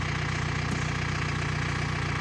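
Yanmar AF 650 tractor engine idling steadily up close, a continuous low mechanical drone with a faint knocking pulse and no voices.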